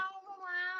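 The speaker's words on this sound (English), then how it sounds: "he's just meowing" A cat meows in one sustained, fairly loud cry lasting under a second, with no talk over it.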